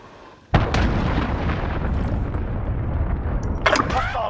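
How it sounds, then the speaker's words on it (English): A cruise missile explodes in the Call of Duty Modern Warfare video game as a sudden heavy boom that rolls into a long rumbling roar, with a brief sharper burst near the end. "Allied cruise missile away."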